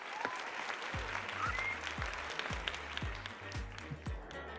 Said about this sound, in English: just like Tinkerbell, the more you cheer, the stronger she becomes